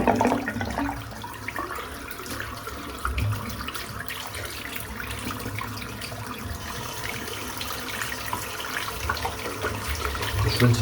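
Shaving brush rinsed under running tap water in a bathroom, a continuous close splashing rush lasting the whole stretch with small fluctuations as the brush moves.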